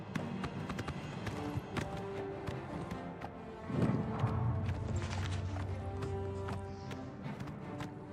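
Horse hooves clatter in the video game Oblivion Remastered, a rhythmic run of close taps and clip-clops over game ambience, with a heavier thud partway through.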